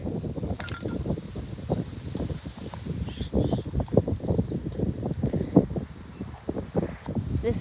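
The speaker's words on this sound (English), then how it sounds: "Sorry, it's so windy." Wind blows outdoors during a bike service, a steady low buffeting rumble across the mic with faint rustling throughout.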